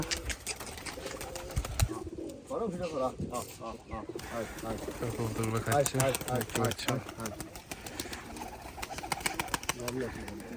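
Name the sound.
pigeons cooing at a pigeon farm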